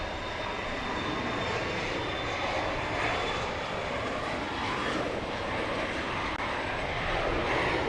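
Airliner jet engines at Dallas Love Field, a steady, broad roar at moderate level, heard continuously from a distance without speech.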